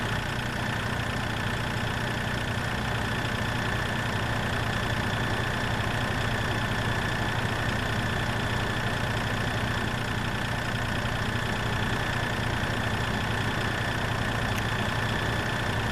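Tractor engine idling in the video game Farming Simulator 2013, a steady, even mid-low drone held unchanged for the whole stretch, no voices.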